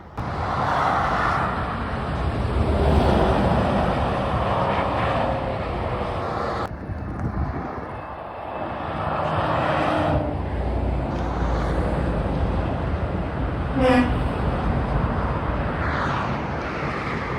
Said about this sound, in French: La 650S Spider et GT3 RS 992 avec une petite Porsche au milieu.